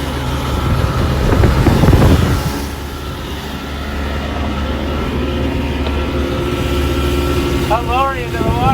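An old motorboat engine on a cheap fishing boat drones steadily at low pitch with rushing wind and water noise throughout, and a few short high squeaks near the end.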